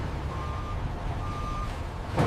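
A reversing truck sounds two evenly spaced electronic beeps over a steady low engine drone, with a brief clatter at the end.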